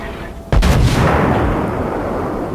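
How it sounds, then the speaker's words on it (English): A naval gun salvo fires shells in World of Warships, US battleship New Mexico's triple-barreled turrets: one sudden loud, deep boom that rolls on into a long rumbling decay, with no voices. "There goes some shells."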